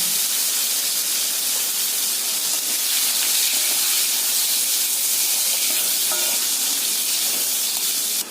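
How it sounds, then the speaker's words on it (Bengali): Diced potatoes frying in hot oil in an Indian kitchen, a steady, loud, unbroken sizzle and hiss that holds evenly for the whole stretch with no voices over it. "আলুটা ভাজা হচ্ছে"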